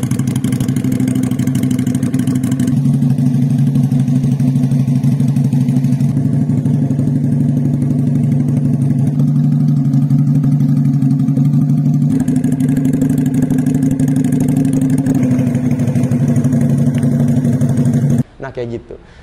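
A Benelli Keeway V250 bobber-style motorcycle idles steadily close by, a low, even, throbbing engine hum that holds for the whole stretch before a brief fumbled noise at the end.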